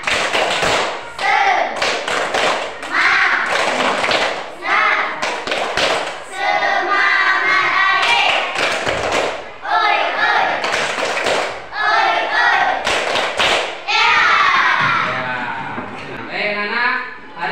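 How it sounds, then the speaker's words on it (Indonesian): Students in a classroom do a rhythmic spirit clap together, sharp group claps falling in patterned bursts with short pauses, interleaved with loud chanted voices. "Tepuk semangat biar kita belajar pagi hari ini dengan semangat"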